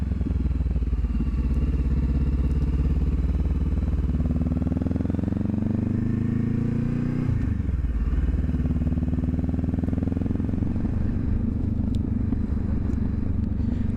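A Honda CB500F motorcycle on a road ride, its engine droning loud and close with a steady exhaust note that rises through the gears, dips briefly as the rider shifts, then climbs again under constant wind rush.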